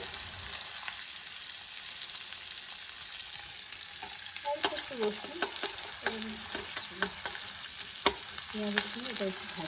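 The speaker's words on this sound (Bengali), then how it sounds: "পেঁয়াজটা একটু হালকা ভাজা ভাজা হতে হতে হ্যাঁ। একটু রসুন করে" Onion and garlic fry in a pan with a continuous sizzle, joined by intermittent scraping and clinking of a stirring utensil against the pan, close and moderately loud, with no talking.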